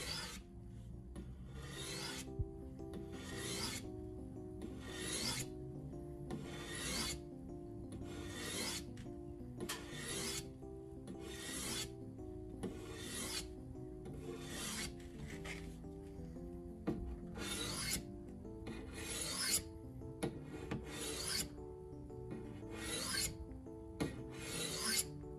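A knife blade is sharpened by rubbing it against part of a car: a steady series of about fifteen rhythmic raspy grinding strokes, close and fairly quiet, each a short scrape.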